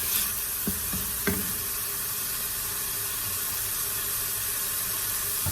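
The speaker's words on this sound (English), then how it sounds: "I put on the fry setting, add a bit of oil, and saute the onions until it's translucent and sauteed." Onions sautéing in a little oil in a pressure cooker on its fry setting, a steady soft sizzle running throughout with a few faint clinks of stirring near the start.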